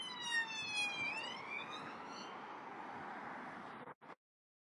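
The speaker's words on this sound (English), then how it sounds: "Oh, police car!" Police car siren wailing on a walk between Etruria and Newcastle-under-Lyme, its pitch sweeping and falling as it passes nearby, loud and steady, then cutting off abruptly at the end.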